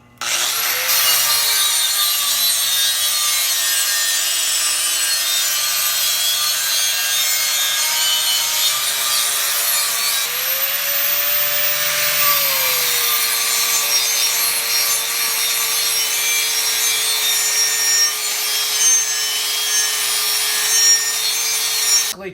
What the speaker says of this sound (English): A sanding disc on the outer part of the wheel where it's typically a little rusty or not as smooth as the inside, especially on used wheels.